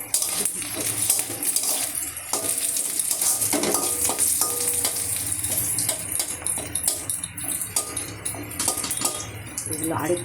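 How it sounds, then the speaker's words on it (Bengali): Whole garlic cloves fry in a pan, a steady sizzle running throughout with scattered clinks and stirring scrapes, while a voice talks over it at times. "দেখুন আমি লাল লাল করে রসুনগুলো ভেজে নিচ্ছি"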